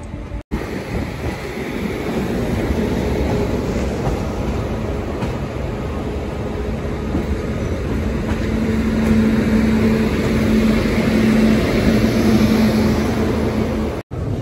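Intercity SuperFast Express 22819 from Bhubaneswar rolling into Visakhapatnam, heard from aboard as a steady loud rumble of wheels and carriage noise with a faint droning hum rising near the end.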